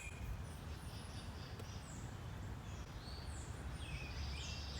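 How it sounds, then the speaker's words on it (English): Birds chirp outdoors in a quiet open setting, faint high calls scattered over a steady low ambient hum, with no talking. "all I hear is the birds chirping."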